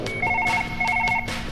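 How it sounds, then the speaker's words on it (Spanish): Telephone in the video game Surgeon Simulator, ringing in two bursts of rapid electronic trills, close and loud, with no talk over it. "Contesta el teléfono."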